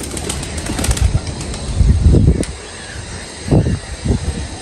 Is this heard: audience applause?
no